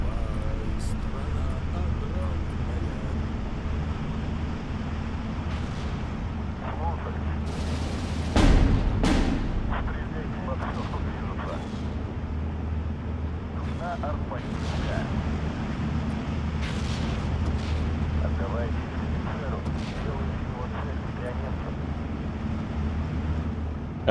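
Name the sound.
explosions and tanks firing in video game Steel Division 2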